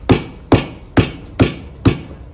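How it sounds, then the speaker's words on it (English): An axe chops repeatedly into the wood of a Shishigashira maple where something is badly embedded, giving five sharp, evenly spaced thwacks about every half second, each with a short woody ring, close and loud. "So the axe is the most efficient way."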